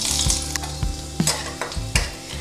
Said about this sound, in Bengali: তেলটা গরম হয়ে গেছে। এবার আমি একটু কালো জিরে ফোড়ন দেবো, সামান্য। আর এই 3 কোয়া রসুন দেব